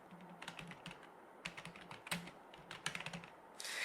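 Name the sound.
typing on a computer keyboard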